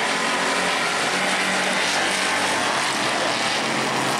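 Race cars roar around the track in a heat race at New Smyrna, a dense, loud, sustained engine drone that fills the whole stretch without a break.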